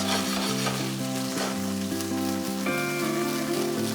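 Chicken meatballs sizzling in a pan on a high flame, a steady crackling fry heard close up without any talking.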